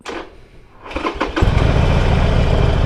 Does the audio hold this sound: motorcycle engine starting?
yes